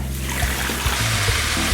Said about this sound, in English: So I'm gonna put in 4 cups of water.